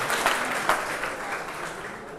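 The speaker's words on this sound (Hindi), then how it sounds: "एक बार जोरदार तालियों के साथ" An audience at a school gathering applauding, a steady wash of clapping at moderate level with a few sharper claps standing out early.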